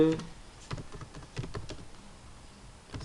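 Typing on a computer keyboard, with a series of distinct, close key clicks in an irregular rhythm that starts dense and thins out, with no speech over it.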